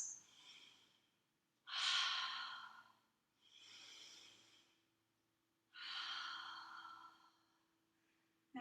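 Slow deep breaths during an all-levels yoga class: two long inhale-exhale cycles, soft and close, with airy sighing exhales and quiet pauses between.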